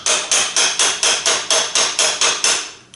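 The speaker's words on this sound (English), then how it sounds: "and then I hammer that little bit" Eleven sharp metallic hammer strikes on a tool during a Toyota 2AZ-FE oil filter change, in a steady, even rhythm, close and loud, each ringing briefly before the next.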